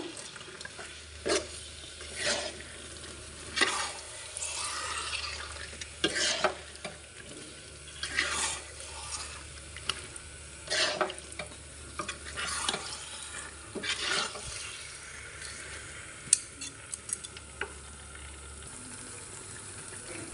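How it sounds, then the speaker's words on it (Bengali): Hog plum pickle with whole garlic cloves is stirred in a hot pan, a steady series of scraping, clattering strokes over a soft sizzle, close and clear with no voices. "এবার আবারও ভালোভাবে নেড়ে ছেড়ে নিব"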